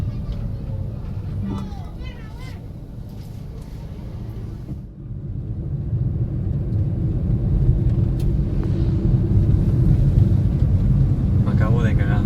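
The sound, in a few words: car passing close by the mirror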